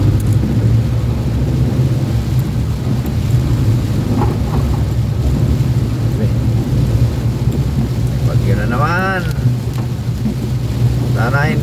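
Heavy rain from Typhoon Enteng in the Philippines, heard from inside a car, roars steadily with a deep, continuous low rumble of thunder; a brief voice-like sweep rises near the end.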